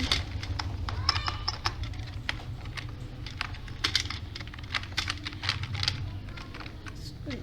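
Keys clatter on a computer keyboard as text is typed into an Excel cell, a steady run of quick, close clicks of varying force over a low background hum.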